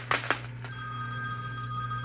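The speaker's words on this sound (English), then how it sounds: "I think we got another call about to come in here." Telephone bell rings inside a coin pusher arcade game, a couple of bright bursts up front over steady machine hum, with faint talk nearby.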